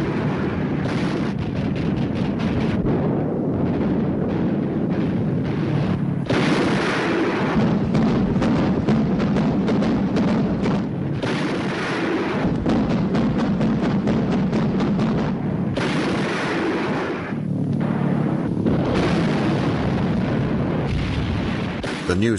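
Rapid bursts of WWII anti-aircraft artillery fire and proximity-fused shells exploding near V-1 flying bombs, a dense, loud barrage of booms and cracks that continues throughout.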